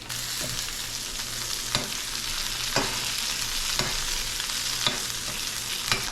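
Salmon fillets fry in butter in a pan with a loud, dense, continuous sizzle, broken by a few sharp taps and scrapes at roughly one-second intervals as the fish is moved.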